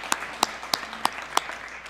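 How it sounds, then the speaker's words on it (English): A handful of slow, isolated claps in a school district meeting room, about five sharp hand claps spaced evenly and ringing out over faint background hum. "So let's give him a round of applause, and ASTA."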